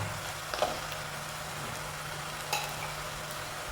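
Ginger garlic paste fries with onions in a pan for a pepper fish curry, a steady low sizzle with a couple of light stirring clicks.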